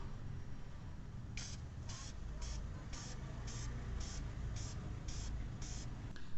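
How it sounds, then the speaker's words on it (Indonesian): Open air filter cleaner is sprayed onto the filter grille in about ten short, evenly spaced hissing bursts, close and fairly faint over a low steady background hum. "Kemudian kita tinggal semprotin aja nih guys ke bagian kisi-kisinya sampai merata."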